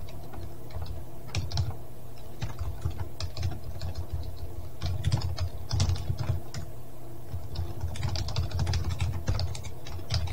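Steady close clicking of keys on a computer keyboard, with rapid irregular keystrokes continuing throughout while a game engine is being coded, no talk present.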